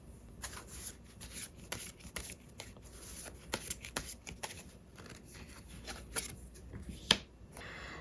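Tarot cards being shuffled in a series of soft, papery riffles and flicks, close and fairly quiet, with one sharper snap near the end and no voices.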